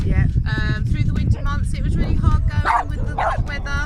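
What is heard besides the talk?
dogs barking during outdoor interview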